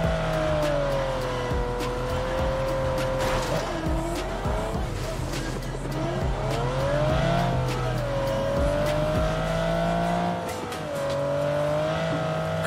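A car drives in the PUBG video game, its engine droning and swelling as it revs, with tire squeal and rattling clicks throughout, loud and continuous before easing near the end.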